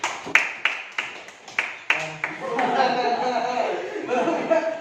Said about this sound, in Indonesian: Tepuk tangan untuk kita sendiri.